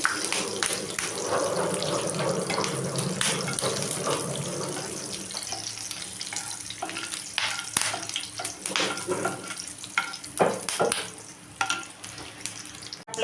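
Hot oil crackles and sizzles as curry leaves, cumin and mustard seeds go into the pan for a quick onion-tomato chutney, a steady close hiss with dense popping spatters throughout.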